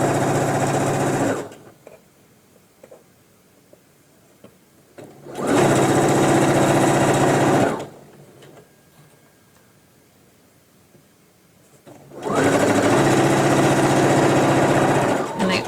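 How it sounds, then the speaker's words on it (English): A sewing machine stitching a pair of pants runs in three loud, steady bursts, with quieter pauses between them where faint handling noises and speech are heard. "Also want to backstitch at the bottom here."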